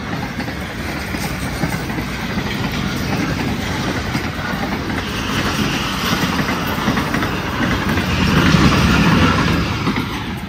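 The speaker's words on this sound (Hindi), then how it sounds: "इतनी तेजी से गाड़ी जा रही है।" A train rushes past fast on a railway line, a loud, steady rumble with clickety-clack wheel clatter that swells slightly toward the end, heard alone without talk.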